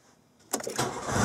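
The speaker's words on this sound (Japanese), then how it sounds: "でエンジンかけてみたいと思います。" A car engine is cranked over and fires up after the negative battery terminal was disconnected and reattached, a short burst of starter noise that swells into a loud, steady running engine close by.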